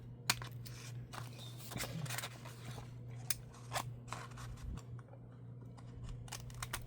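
Scissors trimming junk journal paper, a run of crisp, close snips in uneven rhythm, each cut sharp and brief over a steady low hum, with no talk.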